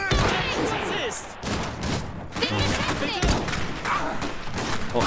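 Rapid volleys of gunfire and thuds rattle through a battle in the game Iron Harvest, dense and continuous bursts with voices speaking amid the shooting.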